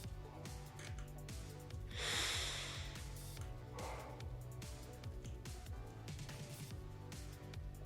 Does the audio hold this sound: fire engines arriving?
no